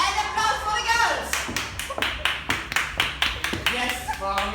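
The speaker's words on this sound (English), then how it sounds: "And applause for the girls." An audience at a DJ performance claps, first in a dense burst and then as sharp, evenly spaced rhythmic claps, with a voice speaking loudly over it.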